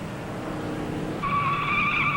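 A 1958 NASCAR Grand National race car in the Southern 500 blows a tire in the first turn and smashes through the guardrail; a steady engine roar is joined midway by a loud, sustained tire squeal.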